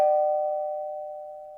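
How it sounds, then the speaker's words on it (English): A doorbell rings a single clear chime whose tone rings out and slowly fades, heard alone with no talking. "Oh, that's my favourite doorbell."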